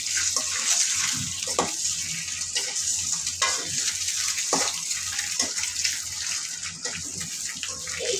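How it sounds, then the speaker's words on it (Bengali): Egg and onion fry in a pan with a steady, close hiss of hot oil, broken by occasional spatula scrapes and taps, with no voices. "ডিমটা ভেজে নামাবো।"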